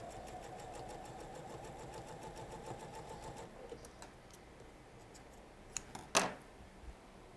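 A sewing machine runs steadily while stitching quilt blocks for a rail fence and triangle setting, stopping partway, followed by a few faint clicks and one sharp tap.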